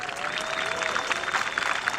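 An audience applauds at the opening ceremony of the 20th Gyeongsangnam-do federation chairman's cup community sports jokgu tournament, a steady mid-distance patter of clapping from a crowd with a faint ringing tone from the sound system.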